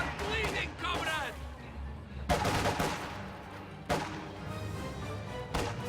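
Grenadier squads open fire in a strategy video game, with dense bursts of rifle gunfire cracking out around the middle and end, mixed with game noise under continuous commentary talk.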